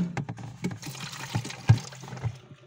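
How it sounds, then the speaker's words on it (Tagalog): Water is poured into the blocked drain hole of a leaking Panasonic refrigerator, giving soft irregular splashes and trickles with several brief louder gulps, fairly close and low in level. "Buhusan natin mga katik kasi barado yan pag ganun buhusan natin."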